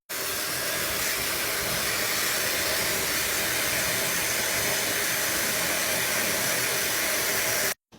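A cheap handheld hair blower running steadily on hair, a loud, continuous airy roar that holds unchanged for several seconds before cutting off abruptly.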